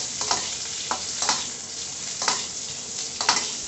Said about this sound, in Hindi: इसको हिलाइए